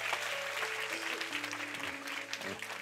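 A church congregation applauds together in a steady, even wash of clapping, with faint tonal music beneath it.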